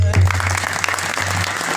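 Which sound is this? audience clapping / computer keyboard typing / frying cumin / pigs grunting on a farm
audience clapping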